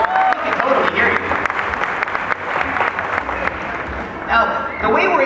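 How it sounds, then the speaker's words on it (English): An audience at a sea lion show applauds with dense, sustained clapping across the whole stretch while a trainer keeps talking over it. "You guys can clap for Rydell if you see anything that you like"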